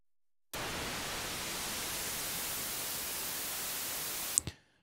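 Synthesizer noise source with its colour swept by a slow bipolar LFO: a steady, loud hiss that starts abruptly, holds evenly for about four seconds, then cuts off with a small click.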